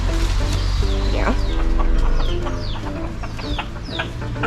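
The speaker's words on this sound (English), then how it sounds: "Happy chickens. They eat what they like." Several chickens cluck and chatter close by in a yard, with short repeated calls overlapping against a steady low background hum.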